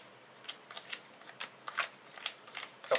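A deck of game cards is table shuffled, giving a series of brief riffling bursts about every quarter to half second, close and fairly quiet, with no talking.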